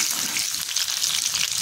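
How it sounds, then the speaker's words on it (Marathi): Green chillies and finely chopped garlic frying in hot oil produce a short burst of dense, hissing sizzle, close and steady throughout. "त्याच्यामध्ये मिरची टाकूया आणि बारीक चिरून घेतलेला लसूण टाकून आपल्याला परतून घ्यायचे"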